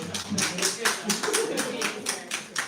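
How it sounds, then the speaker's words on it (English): Podcast audience giving the guests a round of applause, a short burst of steady clapping under a voice. "Can we get them a round of applause?"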